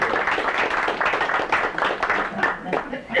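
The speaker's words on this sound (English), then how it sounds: "Roll applause" Steady, moderately loud clapping from attendees at a board of education meeting, sustained for about three seconds with voices mixed in.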